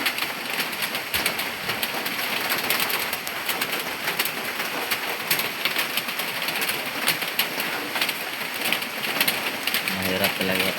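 Steady rain falls over an outdoor market stall in the Philippines, a dense, even patter that fills the whole clip, with faint bird calls and a little indistinct background voice mixed in.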